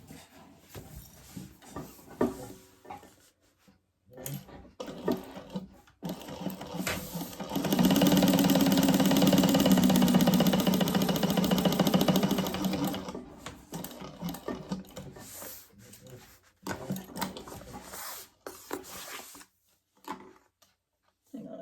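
A sewing machine stitches down the sides of a laptop bag, running in short start-stop bursts and one longer steady run of rapid stitching in the middle, with quieter handling noises between.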